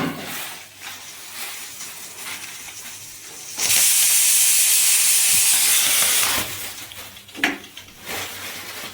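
A pressure cooker cooking rice in a home kitchen lets out a loud, sustained whistling hiss of escaping steam for a few seconds, preceded and followed by quieter kitchen clatter.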